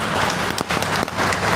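Applause at a Patangiangan Manurung community gathering in East Jakarta, a dense, continuous wash of many hands clapping close by with a few sharper claps standing out.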